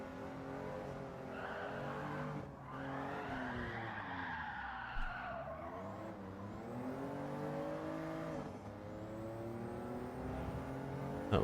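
Tires skid and scrub through a long slide in Gran Turismo 7 during a time trial, a continuous engine whine rising and falling beneath the steady squealing drift, loud and close throughout.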